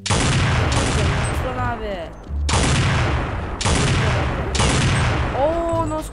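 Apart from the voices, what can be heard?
AWP sniper rifle shots in video game Counter-Strike 1.6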